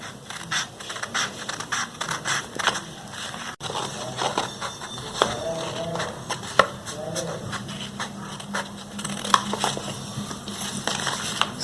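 Scissors snip through blouse fabric along the curved edge of a sleeve pattern, close-up crisp cuts and scratchy rustles repeating steadily, with some faint handling noise.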